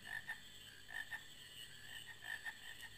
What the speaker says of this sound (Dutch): Ah, kikkers.